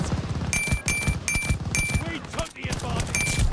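STG-44 assault rifle firing in Call of Duty: Vanguard, loud short bursts of gunfire repeating about five times over a steady game soundscape, with a ringing tone accompanying each burst.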